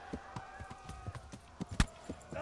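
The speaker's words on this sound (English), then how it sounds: "I'm on a horse. And now I'm just riding away." Horse hooves clip-clop at a steady trotting rhythm while riding in the video game Kingdom Come: Deliverance, fairly quiet and close, with one sharper louder hoof strike partway through.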